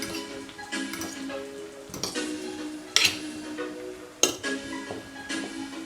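Chickpeas and wild rice being stirred in a pan, with scattered soft clinks and scrapes of a utensil against cookware and a couple of sharper knocks, fairly quiet and without talk.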